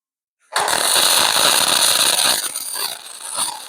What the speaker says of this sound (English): Let's see if we can get a bead of weld right in that crack.